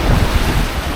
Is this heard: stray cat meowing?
no